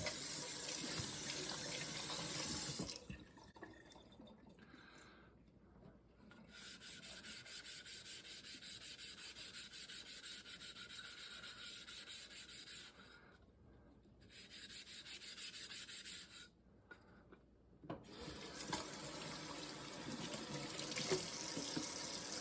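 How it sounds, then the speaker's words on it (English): A budget Thleite Splash waterstone rubbed under running tap water, steady gritty scraping strokes over the continuous hiss of the flowing faucet, close by and paused briefly a few times. "You do have to use these wet, so I have to do this with running water."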